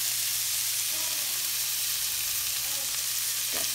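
Diced vegetables, including red bell pepper, sizzle steadily in a frying pan for a tuna noodle pasta, with a faint low hum beneath and a brief scrape of stirring near the end.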